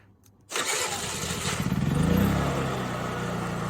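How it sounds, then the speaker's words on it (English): A Honda EU3000is inverter generator fitted with a remote start cranks for half a second, then catches and settles into a steady, loud running drone close by. "you can hear it when it stops cranking and the RPM goes up"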